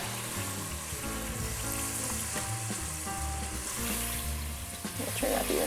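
Thin homemade potato chips bubble and crackle in hot oil, a dense, continuous frying hiss with a low rumbling undertone, close and steady, with some faint stirring noises.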